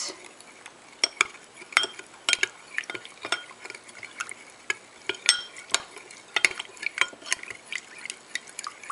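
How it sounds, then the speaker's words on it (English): A utensil clinks and scrapes repeatedly inside a bowl in an uneven rhythm, close by, mixing a thin corn flour and water batter. "add 4 to 5 tablespoons of water and mix well without any lumps."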